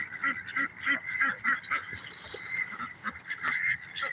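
A flock of Canada geese honks steadily in rapid, overlapping bursts, calling from a short distance at moderate loudness with no pauses.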